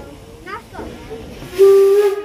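A steam locomotive whistle sounds briefly and clearly near the end, a steady hissing tone following some quieter rumbling sounds.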